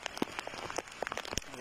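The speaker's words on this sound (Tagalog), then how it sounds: "Malakas ng ulan, gabi." Heavy rain falls at night during a typhoon on a fishing trip, a faint, dense patter of drops hitting surfaces with no voices.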